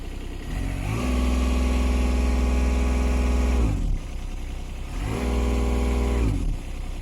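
Small mini digger engine revs up from idle to a high steady drone, drops back, then revs up again, two clear rises close by.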